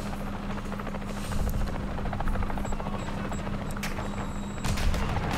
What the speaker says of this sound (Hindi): यहाँ कहीं से मेरे हेलीकॉप्टर की आवाज़ आ रही है